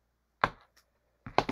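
Sharp scissors snip ribbon tails for a bow, two short crisp cuts close by, separated by near silence.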